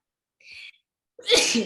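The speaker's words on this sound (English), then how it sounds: "oh, I have to sneeze" A single sneeze, preceded by a short sharp intake of breath, loud and close with no talking around it.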